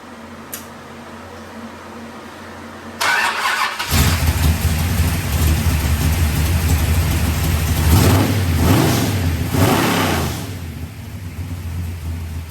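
A Mopar stroker V8 with Trickflow 270 heads and a solid roller camshaft cranks, fires up on a run stand and settles into a loud, lumpy idle, then revs hard a few times before dropping back.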